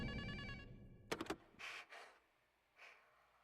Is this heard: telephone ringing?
yes